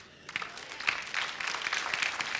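Steady crowd applause breaking out after a quiet start at an interfaith Thanksgiving service, many hands clapping together in a dense, continuous patter that holds to the end.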